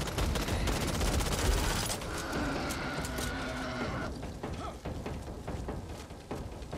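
Gunfire in the zombie shooter Back 4 Blood: dense rapid-fire bursts, close and loud, fading to scattered shots and clatter as the clip goes on.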